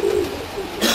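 A pigeon gives a brief, soft cooing call close by, a low throaty murmur lasting about a second.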